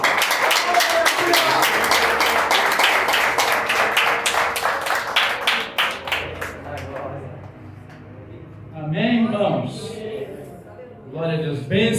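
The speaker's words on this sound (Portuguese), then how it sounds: "Uma salva de palmas" A church congregation claps in applause, a dense burst of many hands that fades out after several seconds, followed by someone speaking alone.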